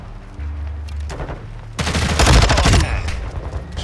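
Vaznev 9K submachine gun firing in Call of Duty Modern Warfare 2, with short bursts giving way to a loud, rapid sustained volley of close shots over game ambience.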